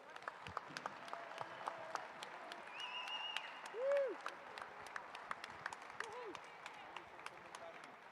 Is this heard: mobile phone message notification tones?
no